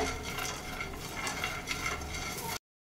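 Chana dal and peanuts dry-roasting in a pan without oil, with a continuous scraping stir and dry rattling of the grains against the metal. It is faint and steady and ends abruptly.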